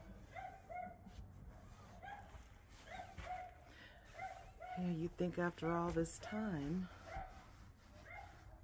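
Several small dogs yip and bark repeatedly nearby, some high whimpering yelps among them, while people talk quietly throughout.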